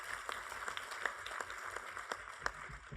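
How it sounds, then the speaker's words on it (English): Scattered, fairly faint applause from an audience at a CSU academic senate panel, individual claps audible in an uneven patter for the student trustee's introduction. "you can applaud for her."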